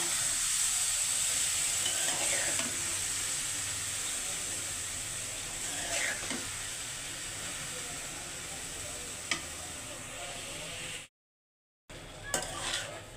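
Potatoes frying for aloo bhaji, a continuous sizzle with occasional stirring scrapes and clinks, close and steady, briefly cutting out near the end before resuming; no voices.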